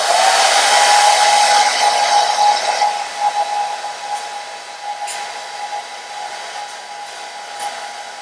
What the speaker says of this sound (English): I can always use a hair dryer.